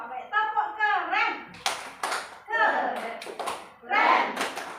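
Children in a classroom do a rhythmic clapping chant called tepuk keren, with quick bursts of hand claps and taps mixed with loud voices chanting and a teacher talking.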